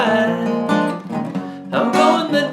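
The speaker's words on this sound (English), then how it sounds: "you can play more of a strummed picking" Acoustic guitar strumming full chords in a light picked style for a song, bright and close, with a short pause in the middle before the strums resume, no voice.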